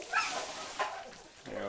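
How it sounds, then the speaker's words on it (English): Puppies eating gruel whimper and yip in short, high squeaks amid soft, messy background noise, fairly close. "the craziness of puppies eating gruel"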